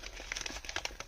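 A white paper drugstore bag crinkles and rustles close up as hands fold and handle it, giving a quick run of small crackling bursts at low volume.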